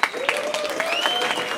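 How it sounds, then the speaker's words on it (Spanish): A crowd at a live music night in a burger restaurant claps for the earlier bands. The applause is steady and fairly close, with a voice and some tonal sound running over it. "Un aplauso para las bandas anteriores."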